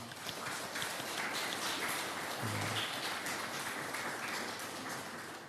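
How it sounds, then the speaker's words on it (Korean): A church congregation at a Sunday service in Darmstadt gives a soft, sustained round of clapping to welcome visitors, heard from a distance, with a brief murmur of voices partway through. "우리 옆에 있는 분들 박수로 환영했으면 좋겠습니다"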